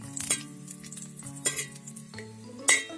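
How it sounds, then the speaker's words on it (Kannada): Garlic fries in a little oil in a pan for Tulu-style basale pundi, a soft sizzle broken by a few clinks and scrapes of a stirring spoon against the pan. "ಈಗ ಬೆಳ್ಳುಳ್ಳಿ ಹಾಕ್ತೀನಿ. ಫ್ರೈ ಆಗಲಿ ಚೆನ್ನಾಗಿ ಅದು."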